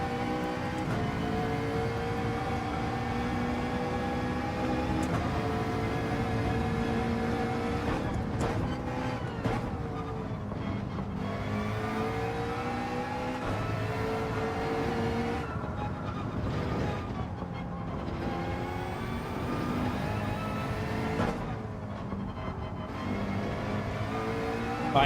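A race car engine in Gran Turismo 7 revs hard under throttle, climbing in pitch through the gears with brief drops at shifts, loud and sustained throughout with no talk over it.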